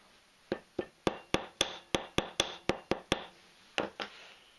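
A hammer taps a wire coil point tip on an anvil-like block, about a dozen sharp metallic strikes in a fairly steady rhythm, close and loud, with a brief pause before the last two blows.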